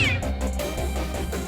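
A pet cat meows loudly and close in one drawn-out, wavering cry with a low hum beneath it.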